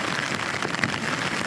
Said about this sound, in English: It's raining like a son of a gun.